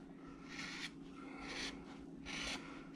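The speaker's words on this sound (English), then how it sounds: "I'm going to take a gouge and start coming across here" A gouge cuts across the grain of a wooden dog carving made from a bandsaw cut-out, giving faint, close scraping strokes repeated about three times.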